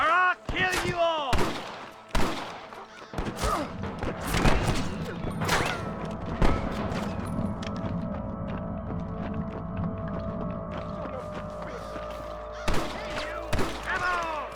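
Gunfire in a shootout with snipers in Red Dead Redemption, several sharp rifle cracks early and late over sustained game music and a low hum, with shouted voices mixed in.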